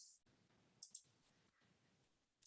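A computer mouse right-click during trading platform setup: a few faint, sharp clicks, a pair close together then a louder single click at the end, in an otherwise quiet room.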